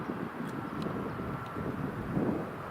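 A Boeing 737 airliner rolls out after landing at Newcastle Airport, its engines making a steady, loud broadband roar that holds throughout with no talk.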